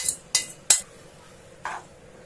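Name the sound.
stirring sweet filling in a pan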